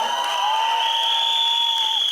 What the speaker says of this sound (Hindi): एक बार उसके लिए जोरदार तालियां